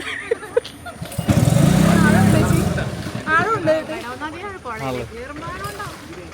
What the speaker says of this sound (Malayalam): എഞ്ചിൻ സ്റ്റാർട്ടായിട്ടുണ്ട് വണ്ടിയുടെ